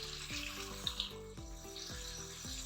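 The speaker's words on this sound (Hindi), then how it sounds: "अब मैं इसमें चने डालती हूँ।" Chickpeas tipped into frying masala for Lahori khoye wale chane sizzle with a soft, steady hiss. Faint and close, it runs under a repeating tonal pattern with small clicks.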